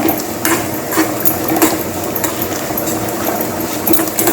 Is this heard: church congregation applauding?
no